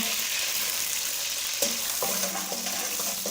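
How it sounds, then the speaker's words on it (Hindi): Finely chopped onions sizzle steadily in a hot pan as they fry toward golden, with a couple of soft stirring scrapes partway through. "प्याज हम फ्राई कर लेंगे गोल्डन सुनहरी होने तक।"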